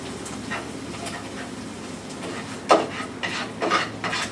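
Mushrooms scooped out of a pan, scraping and rubbing of a utensil against the pan with a sharp clink near the end and several quick scrapes after, close and moderately loud.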